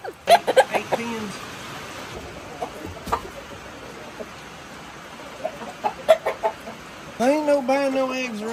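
Aging laying hens cluck in a chicken barn on a small egg farm. Scattered short clucks and squawks sound close by, with a longer run of rising calls near the end over quiet barn ambience.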